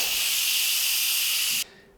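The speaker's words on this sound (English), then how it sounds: "There's going to be some steam as I turn the venting valve to," Loud, steady steam hiss blasts from an Instant Pot pressure release valve as a pork roast finishes, holding constant for about a second and a half before cutting off abruptly.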